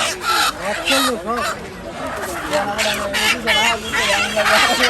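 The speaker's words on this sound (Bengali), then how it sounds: "এই যে হাঁস মুরগি এবং কবুতর" Chickens and ducks at a busy village poultry market in Mymensingh cluck, squawk and call over one another loudly and close by, with a crowded, constant din throughout.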